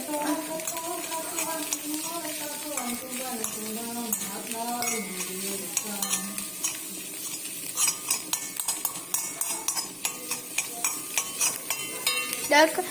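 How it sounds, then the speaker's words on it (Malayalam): A spoon stirs an egg mixture in a hot pot, scraping and clinking against the metal. A voice talks over the first half, then the stirring strokes come through clearly as a quick, close rhythm of knocks. "നമ്മൾ എത്ര ഇളക്കിയാലേ കരിഞ്ഞു നോക്കില്ല"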